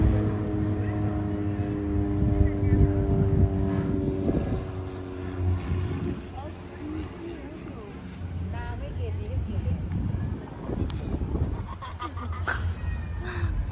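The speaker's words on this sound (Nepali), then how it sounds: "हाम्रो यहाँ प्लेन उडिरहेछ" An airplane flies over North Sydney as a steady engine drone, strongest early on and then fading, while people talk over it.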